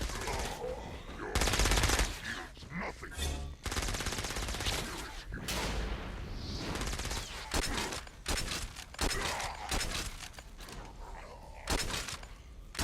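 Dense bursts of automatic gunfire and mechanical clatter in a Saints Row battle, with loud rapid volleys, short pauses and repeated crashing impacts across the whole stretch, some voice mixed underneath.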